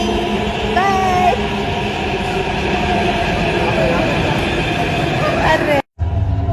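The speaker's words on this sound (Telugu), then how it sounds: "అదిగో మా మెట్రో. మేము ఎక్కే ట్రైన్ ఇదే." A metro train pulls into a station with loud, steady rumbling and screeching wheel squeals, the continuous roar filling the space before a brief cut; no voices stand out over it.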